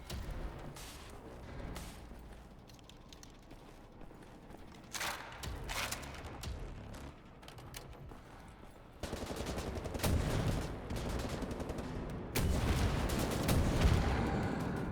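Gunfire in the Wolfenstein: The New Order video game: scattered loud shots and bursts of automatic fire, sparse early, then dense and continuous in the second half.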